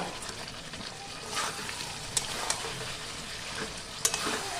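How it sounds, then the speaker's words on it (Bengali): Jackfruit and potato stir-fried in an oil-releasing spice paste give a steady close sizzle, with occasional sharper clicks from stirring in the pan. "আমি এর মধ্যে এবার ভেজে রাখা ইঁচড় আর আলু দিয়ে দিলাম তারপর আমি কষাতে থাকবো"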